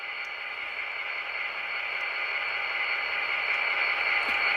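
An HO scale Walthers Proto EMD GP35 model locomotive runs smoothly at low speed, giving a steady faint motor whir and electronic hum with no breaks.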